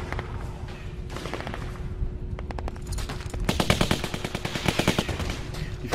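Gunfire in The Walking Dead Season Two video game: rapid bursts of automatic shots, close and loud, growing more intense and continuous toward the end.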